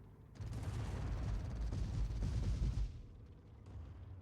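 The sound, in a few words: auto cannon firing in a video game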